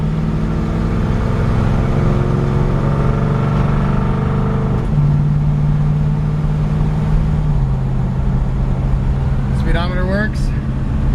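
A 1964 Ford Galaxie 500XL's engine hums steadily while driving, a loud close drone that shifts pitch as it moves through gears, with a brief squeal near the end.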